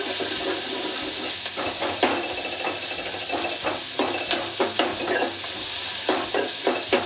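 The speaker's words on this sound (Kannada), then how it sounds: "ಇದು ಚೆನ್ನಾಗಿ ಗೋಲ್ಡನ್ ಬ್ರೌನ್ ಬರಬೇಕು ಈರುಳ್ಳಿ" Onions frying in a pan for a village-style holige saaru, a steady broadband sizzle with occasional stirring clicks and scrapes, close and continuous with no talking.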